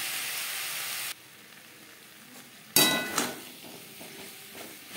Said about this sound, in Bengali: মশলা বেশ ভালো করে মিক্স করে দেবো।